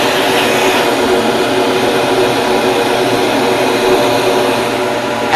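Steady broadband rush of air drawn by a flow bench through an AEM intake filter on a Chevrolet Cobalt SS intake system at about 300 CFM, loud and continuous without pause.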